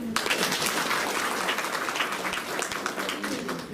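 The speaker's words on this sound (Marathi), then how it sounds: "टाळ्या वाजवा" An audience claps steadily for a few seconds, a dense, continuous burst of applause with a faint voice underneath.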